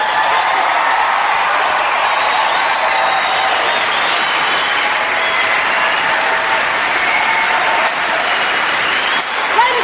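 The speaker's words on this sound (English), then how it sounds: "I can see that you have a special skill in clapping and enthusiasm" Sustained, dense audience applause fills a charity comedy show hall, steady and loud throughout with a slight dip near the end, no talk over it.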